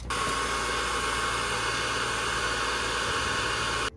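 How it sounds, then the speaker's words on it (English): A hair dryer heats a BMW M5 bumper during bumper plug installation, blowing with a steady, even whooshing hiss that runs without a break, then cuts off. "Again, 2 minutes of the dryer."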